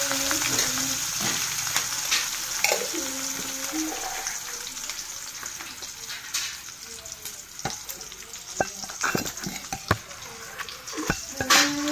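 Onion and curry leaves fry in a hot pan with a steady crackling sizzle up close. Scattered clinks and stirring scrapes of a spoon cut through it.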